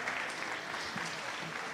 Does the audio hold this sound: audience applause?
yes